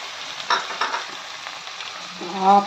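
Dry prawns sizzle in hot oil in a pan while being stirred, with a soft continuous fry and several scraping, rustling stirs that flare up, the last one louder near the end.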